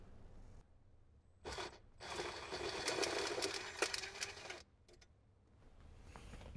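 Ratchet fitted with an 8mm socket working a dash bolt loose on a Jeep Wrangler JK, a dense run of quick clicking that lasts about three seconds close by. A few shorter bursts of clicks follow it.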